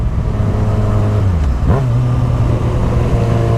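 A Yamaha FZ6R motorcycle with a Hindle exhaust runs on a dyno, a loud, droning engine note that holds steady, drops and swoops back up midway, then settles into a constant hum without talking.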